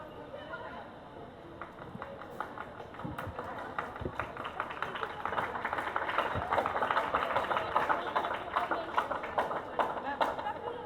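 An audience at a school annual day applauds, scattered claps building into a denser, louder round of clapping, with a crowd murmur and voices underneath.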